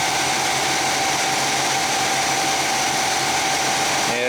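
The big-block engine of an abandoned 1966 Chevy Biscayne runs at a steady, loud drone with a constant tone and no variation, heard close up.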